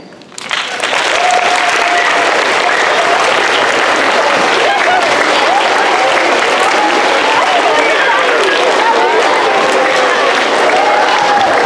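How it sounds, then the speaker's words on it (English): A school assembly audience at a veterans recognition event stands to applaud a special guest, with clapping that swells quickly and stays loud and dense throughout, mixed with crowd voices and scattered cheers. "please stand and give a round of applause for our special guest, Colonel Boozer."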